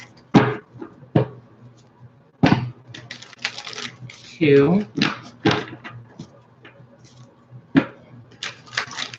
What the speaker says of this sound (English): Let's do 3 shuffles.